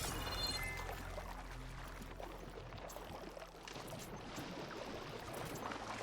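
Water splashing and sloshing continuously as a character swims in Horizon Forbidden West, a steady wash of watery movement throughout with no speech.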